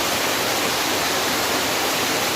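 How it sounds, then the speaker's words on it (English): Water rushing steadily through a trough and over the edge of a waterfall at a West Virginia creek, a loud, continuous broadband roar with no break for the whole stretch. "You see this water rushing through."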